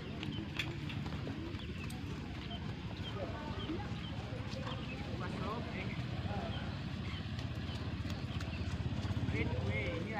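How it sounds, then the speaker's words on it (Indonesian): Two horses arrive for morning training ahead of a traditional Gayo horse race, their hooves clip-clopping steadily nearby amid outdoor bustle, with voices talking over it. "Ini kuda baru nyampe, 2 ekor kuda yang akan berlatih pagi ini."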